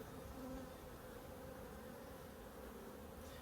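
Honeybees buzzing around a double hive, a faint, steady, even hum of many insects close by with no voices.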